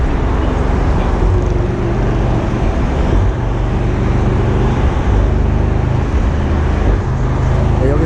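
A Mercedes-AMG SL 63 4MATIC+ V8 convertible driven and cornered on a course, giving a loud, steady low engine rumble with road and wind noise from inside the car.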